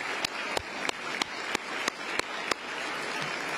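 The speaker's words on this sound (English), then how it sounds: "Let's give them a round of applause as well." Applause from an audience at a state governor's bill-signing ceremony, a steady wash of many hands with a few sharp, evenly spaced claps standing out, moderately loud and without talk.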